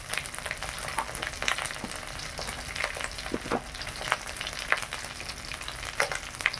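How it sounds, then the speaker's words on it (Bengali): Spices frying in oil with turmeric powder just added: an even, crackling sizzle up close with scattered sharper pops and light stirring taps, no voices. "এবার আমি হলুদ গুঁড়ো দিলাম"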